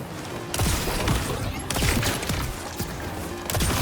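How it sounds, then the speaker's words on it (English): Jakobs Vex shotgun in Borderlands 4 firing a burst of loud, booming blasts at a steady pace, each shot followed by crackling impacts and a short rumbling decay. "this is what this shotgun's all about"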